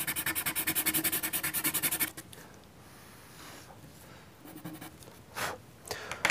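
A stubby charcoal pencil shades a background on paper in fast, rhythmic back-and-forth strokes, close and crisp, then stops and gives way to a few softer scattered rubs and taps.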